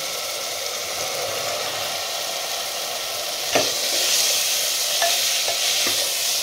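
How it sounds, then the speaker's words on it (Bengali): Chickpeas sautéing with tomato purée and spices in a pan for Punjabi chole, giving a loud continuous hiss and sizzle, with a few scraping stirs of a spoon in the second half, close and without talk. "ভালো করে মশলার সঙ্গে কষিয়ে নিচ্ছি।"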